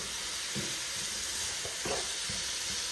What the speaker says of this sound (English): Allow it to fry. You can use any oil of your choice. But I'm using canola oil.